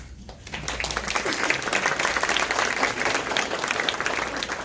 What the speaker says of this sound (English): Hold your applause until we finish the VIPs.